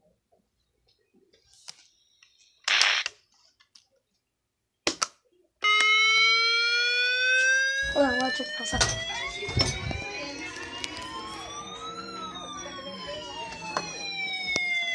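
A Midland WR-10 weather radio sounds its alarm siren: a loud, steady electronic wail of stacked tones that bends up and down and runs to the end. Brief speech and clicks come before it, and talk continues faintly under it.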